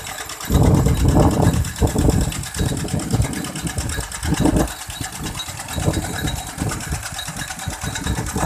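An engine-driven water pump fills an 18-rai rice paddy through an 8-by-16 pipe, its engine chugging in a loud, steady rhythmic drone with a low pulsing beat, heard close and continuous.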